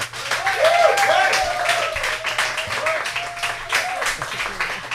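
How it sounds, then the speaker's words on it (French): A studio audience applauds to welcome guests onto a televised French debate set, steady dense clapping that holds for several seconds with a voice audible underneath. "Alors, veuillez applaudir Maïka Sondarji et Gabriel Secours."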